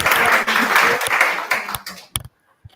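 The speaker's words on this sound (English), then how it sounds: "They're clapping" A room full of people at a community event on digital upskilling applauds together, a dense, steady burst of clapping heard fairly close that fades and stops after about two seconds, leaving a few scattered claps.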